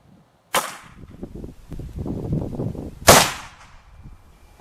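Two sharp, loud gunshots from a .300 Blackout rifle firing a Barnes VOR-TX bullet into a flour target and a 2x6 board, the second shot about 2.5 seconds after the first, with a rustling clatter between them and no talk.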